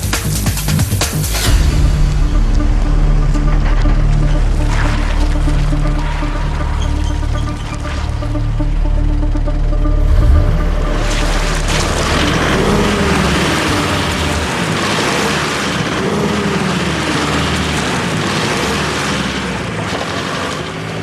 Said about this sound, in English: my wheels on my train just can't get enough grip to get me moving.